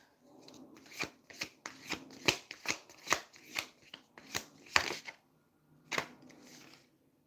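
A deck of cards is shuffled by hand, giving a run of quick riffling bursts and soft slaps at an uneven pace, close and quiet, as several cards drop loose from the deck.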